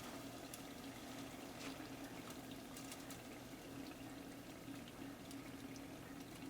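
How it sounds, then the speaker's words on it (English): Liquid nitrogen boiling as flowers are cooled in it: a faint, steady fizzing and bubbling hiss with a low hum beneath, continuing evenly without talk. "When the boiling sound stops, then we know the flowers are at liquid nitrogen temperature."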